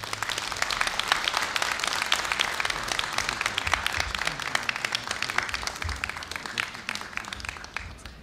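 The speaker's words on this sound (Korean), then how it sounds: "여러분 뜨거운 박수로 환영해 주십시오" An audience at Korea University's 2017 degree conferment ceremony gives sustained, dense applause to welcome a graduate speaker. The clapping stays fairly loud and even, then thins slightly toward the end.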